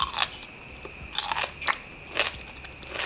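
Someone bites into crunchy food up close, with five or six sharp crisp crunches spaced about half a second apart over a faint steady background tone, and no talking.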